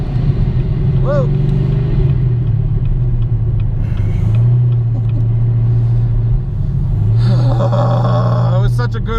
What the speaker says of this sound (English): It was such a good burnout.